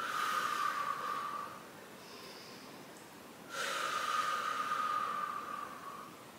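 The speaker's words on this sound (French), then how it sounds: "Et on continue à respirer." Slow, deep breathing during a quadriceps stretch, a long audible exhale, a quiet pause, then another long breath, close to the microphone with no talking.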